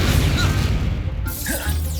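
A Confringo spell blast in the video game Hogwarts Legacy hits as a loud, crashing burst with a booming, whooshing rumble that swells and fades within about two seconds.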